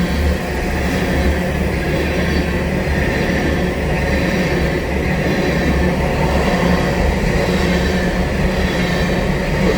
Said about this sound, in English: I had to stop to let 2 trains go by.